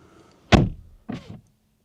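Two solid thuds about half a second apart, close by, the first sharper and louder, like an electric BMW car door shutting and settling, then quiet.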